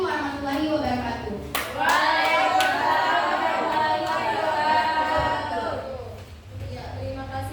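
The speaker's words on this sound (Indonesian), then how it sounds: "Beri tepuk tangan dulu." Classroom applause after a student presentation: a crowd of pupils clapping steadily and loudly for several seconds, then tapering off, with children's voices mixed in.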